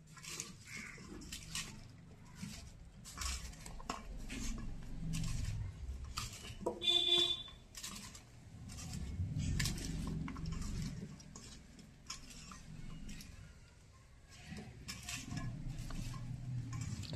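Star fruit being hand-mixed with lime, cumin-water spice, coriander leaves, chilli powder and mustard oil, giving soft squelching, wet rubbing and faint bowl clinks in an irregular rhythm, close and quiet, with no talking.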